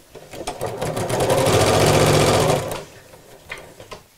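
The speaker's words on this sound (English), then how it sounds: "I'm going to carry on sewing right from the edge of the bias binding where it's folded" A sewing machine stitches steadily along the folded edge of bias binding on a fabric mat, a loud close-up whirring run of about two and a half seconds that then stops, leaving a few faint handling sounds.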